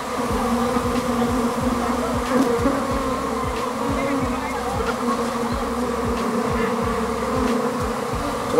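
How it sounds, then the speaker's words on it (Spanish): A dense swarm of bees buzzes continuously and loudly nearby, a thick droning hum with individual insects whizzing past. "Mira cómo suenan las abejas."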